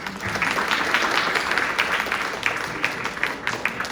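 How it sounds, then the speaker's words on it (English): Lively audience applause at a community music event after a performance, dense, close clapping holding steady throughout with a few sharper individual claps standing out. "Round of applause, please."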